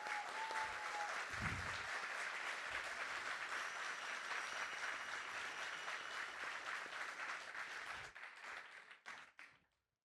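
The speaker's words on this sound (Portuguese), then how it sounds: "Gostaria de pedir mais uma vez uma salva de palmas para Frei Beto." Sustained applause from an audience at a book fair author talk, dense and steady for about eight seconds, then thinning into a few scattered last claps before fading out.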